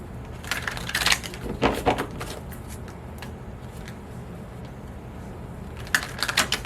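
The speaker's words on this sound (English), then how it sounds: "Go ahead and give these suckers a good shuffle." A deck of oracle cards is shuffled by hand in several quick riffling bursts, crisp close papery flutters separated by a quieter pause, with no talking.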